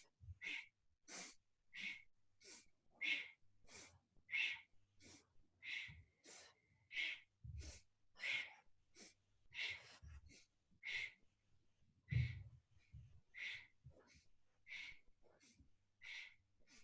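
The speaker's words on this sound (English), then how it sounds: "And it's sort of a forceful breath." Forceful rhythmic yoga breathing, about two dozen sharp, evenly paced exhales through the nose, close and fairly quiet, with no talking.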